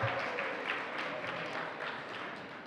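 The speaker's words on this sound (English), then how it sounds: "So let's do a big round of applause for all the Wi-Fi." An audience at a technology summit on aging and disability gives a sustained round of applause, a fairly faint, dense patter of clapping that carries on evenly without speech.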